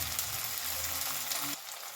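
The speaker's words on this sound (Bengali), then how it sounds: "আমি গ্যাসের ফ্লেমটাকে একদম লোতে করে বেশ কিছুক্ষণ ধরে নেড়ে কষে নেব মশলাটা" Spice masala frying and being stirred in a pan over a low flame, a steady soft sizzle with faint scraping that drops off abruptly partway through, no talk.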